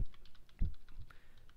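Light, scattered clicks on a computer keyboard while writing HTML code, faint and irregular, with a couple of soft low thumps mixed in.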